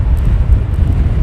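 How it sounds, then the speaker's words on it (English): Wind gusting at Heathrow Airport, a steady low rumbling buffet close on the microphone, loud and continuous through the short moment with no voices. "Wind's picked up."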